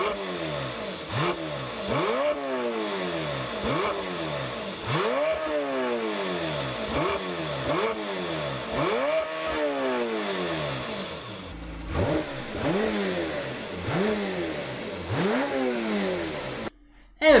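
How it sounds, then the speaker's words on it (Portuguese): Lamborghini Temerario, the turbocharged successor to the Huracán, revving repeatedly in a steady series of loud rising-and-falling engine roars, close by, continuing for the whole stretch. "E vamos ver agora o ronco do carro"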